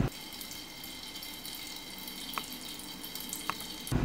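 An open tap pours water in a steady hissing stream, close and continuous, with a couple of faint clicks in the middle.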